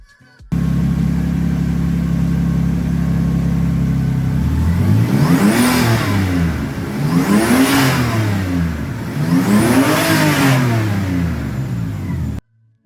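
A Toyota 2JZ engine swapped into a car idles loudly up close, then revs three times in rising and falling sweeps, each rev climbing to a whine before dropping back to idle.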